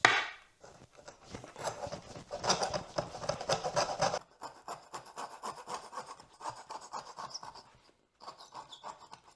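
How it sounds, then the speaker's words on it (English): Cut-off wooden dowel ends are sanded smooth by hand, a close, quiet rhythmic rasping of quick back-and-forth strokes that pauses briefly twice. "Give them a quick little sand."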